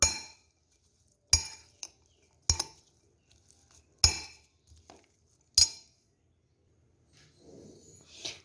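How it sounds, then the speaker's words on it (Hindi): Spoon clinking against a bowl in a handful of sharp, spaced strikes as corn salad is mixed, with soft rustling toward the end. "अब इन सबको अच्छी तरह जो है हम मिक्स कर लेंगे।"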